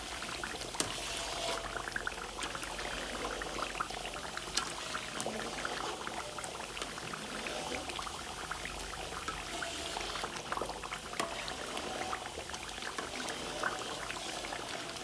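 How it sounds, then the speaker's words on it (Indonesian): Homemade coconut oil, made from grated coconut, cooks down in a pan while being stirred constantly, giving a steady bubbling, sizzling crackle with occasional scraping clicks, close and moderately quiet. "Tapi di saat tahap-tahap akhir ini harus terus-menerus diaduk biar tidak lengket"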